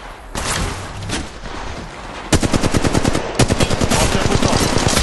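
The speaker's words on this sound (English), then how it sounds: "Firing. Taking fire, brothers." Automatic gunfire in the Apex Legends video game rattles in rapid, loud bursts, growing into dense pulsing volleys in the second half and heard up close.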